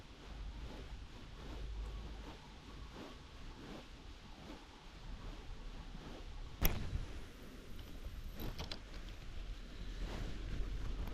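Steady low west wind rumbles and buffets the microphone throughout on the bank of the Prut River, with a single sharp click partway through and faint outdoor hiss.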